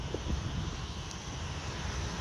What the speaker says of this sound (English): it looks like the China Southern Airbus A3. I don't know which Airbus, it might be A330